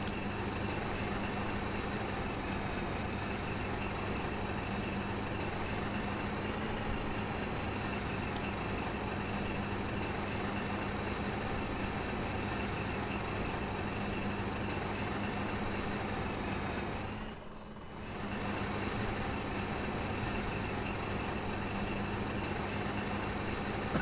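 A truck in the war game Foxhole drives steadily with a loud, continuous engine rumble, alone and without talk, briefly dipping near the end before resuming.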